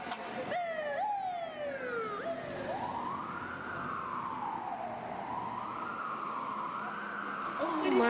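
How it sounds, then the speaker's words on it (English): Emergency vehicle siren wailing in traffic, a fire truck's sweeping yelp and wail rising and falling loud and close, with air-horn-like tones at the start and steady traffic noise underneath. "Like you can literally hear the siren sound."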